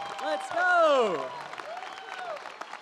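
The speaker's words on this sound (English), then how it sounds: "Thank you for that heavily encouraged applause" Commencement ceremony audience at a university dramatic arts graduation gives brief applause, a soft patter of clapping running under a voice that rises and falls in the foreground.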